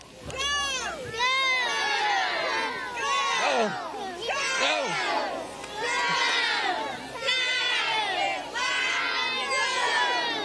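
Students cheer and shout in a rowdy crowd at a Bullard Knights versus Madera Coyotes high school football game, voices rising in repeated chanting swells, close and loud.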